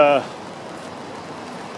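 Steady rain falls outdoors, a soft continuous hiss of drops on surfaces, moderately loud after a brief burst of voice at the start.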